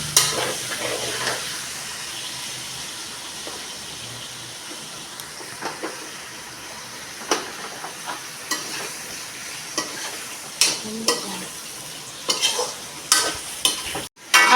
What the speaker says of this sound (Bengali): ক্যাপসিকামটা হালকা করে সঁতে করে নেব।